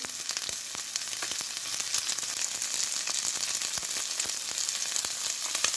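Seasoning going into pork frying in a pan for spicy garlic chili noodles, giving a steady, close sizzle with scattered crackles and pops throughout, no voices.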